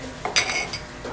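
Spoon stirring chicken in a metal cooking pot in a home kitchen, a couple of quick, close metallic clinks and scrapes against the pot over a low background hum.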